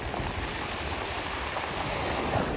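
Black Sea waves wash onto the shore at Sochi on a cool January morning, a constant dense roar of surf with wind buffeting the microphone and no voices.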